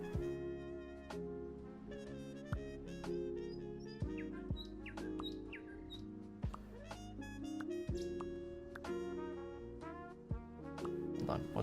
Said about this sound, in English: Seems excited by the sounds of ocean birds playing along the beachfront.